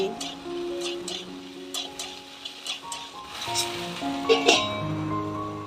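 A spoon stirring vendi and potato curry in a pan gives soft clinks and scrapes in an irregular rhythm, close by, over a faint sizzle and a tonal background hum.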